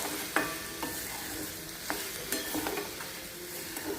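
Bitter gourd slices frying dry with crushed peanuts in a pan, a soft continuous sizzle broken by a few light utensil taps and stirring scrapes, close and fairly quiet.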